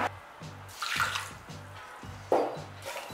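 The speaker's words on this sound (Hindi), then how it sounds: "तो मैंने पैन में डाली है 500 ग्राम शक्कर और अब हम डालेंगे 1 कप पानी।" A cup of water is poured into a pan holding 500 grams of sugar for making syrup, producing soft, uneven splashing and trickling with a few louder gushes, close by and with no voices.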